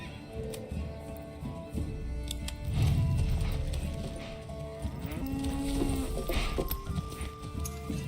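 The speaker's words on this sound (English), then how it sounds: "the cattle are being used to pull fresh logs each time from one end of the map to the other" Cattle pull fresh logs across the map in the medieval city-building game Manor Lords, heard as layered hoof clip-clops and animal sounds over ambient game noise, with a few tonal in-game cues mixed in.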